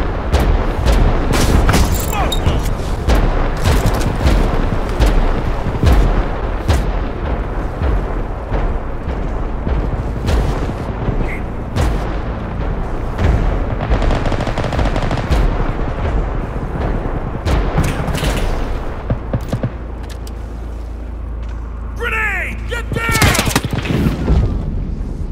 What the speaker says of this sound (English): Our artillery is commencing fire.